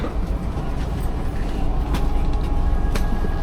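A steady low rumble and rattle fills the inside of a moving train carriage in Malaysia, with faint clicks and creaks over the constant drone.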